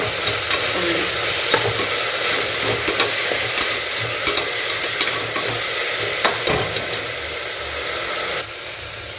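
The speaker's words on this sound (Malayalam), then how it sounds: "സവാള എളുപ്പം വാടാൻ കുറച്ച് ശകലം ഉപ്പിട്ടാൽ എളുപ്പം വാടി" Sliced onions sautéing with salt for chicken curry, a loud continuous sizzle with occasional spatula scrapes and taps, close by.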